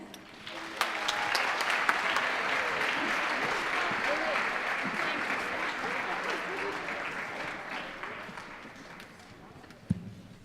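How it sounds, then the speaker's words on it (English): Steady audience applause fills a hall after a choir's pre-assessment performance, broad continuous clapping that swells early and slowly tapers, with a few sharp louder claps near the end. "Ladies, congratulations. It was a beautiful performance, and good luck at assessment."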